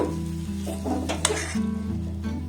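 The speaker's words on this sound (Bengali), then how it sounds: "এটাকে কন্টিনিউ নাড়তে নাড়তে দেখবেন একটা টাইট ডোতে পরিণত হবে" Date pitha dough is stirred in a pan over a gas flame, with a soft continuous sizzle, a low hum underneath and a few scraping strokes, and no one talking.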